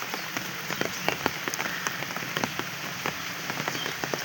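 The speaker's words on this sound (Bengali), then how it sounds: "আসলে বৃষ্টির প্রকৃতিটা কেমন দেখেন, বৃষ্টি হচ্ছে।" Rain falls on a village, a soft steady patter with scattered sharper drips hitting nearby surfaces, continuous and fairly quiet with no voices.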